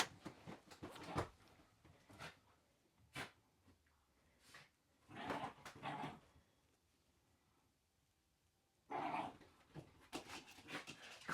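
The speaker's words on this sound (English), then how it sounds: "Crazy dog." A dog tearing something up indoors in a camper makes bursts of snorting, growling and rough scuffling, clustered in loud spurts with quiet gaps between.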